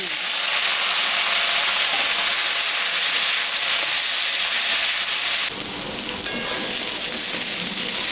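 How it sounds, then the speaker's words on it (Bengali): Potatoes and onions frying in hot oil make a loud, steady, hissing sizzle that stays close and continuous. A clatter of stirring near the end briefly thickens the sound. "এখন আমি আলুটা দিই।"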